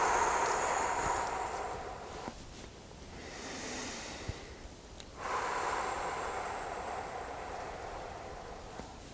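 Slow, deep breathing during a grounding exercise, a long airy inhale building then a pause and another drawn breath, close and breathy against faint background hiss.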